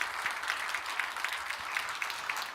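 Children in a Korean church service clap together in a steady, fairly soft patter of applause that carries on evenly throughout, with no talking over it.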